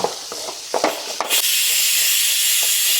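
Curry leaves and chili sizzle loudly in a hot pan while masala dosa filling is cooked, a burst of spitting hiss rising after a few clattering stirs and holding steady and close.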